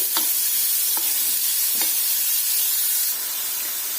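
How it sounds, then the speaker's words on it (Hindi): Vegetables sauté in a pan over a low gas flame, making a constant loud sizzle with a few soft stirring clicks at a slow, uneven pace. "दस मिनट तक गैस सिम पर हम अब इनको सौटे करेंगे, भूनेंगे"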